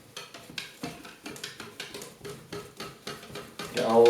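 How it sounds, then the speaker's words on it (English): C41 film processing chemicals being stirred, a steady rhythmic swishing and clinking in a vessel, repeating roughly every third of a second, close and moderately loud, ending in a louder rush. "we're just just going to give that a really good stir now"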